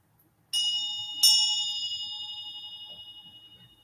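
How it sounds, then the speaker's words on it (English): A bright bell is struck twice in quick succession, then rings out with a long, slowly fading shimmer in a quiet room. "let's ring the bell, right?"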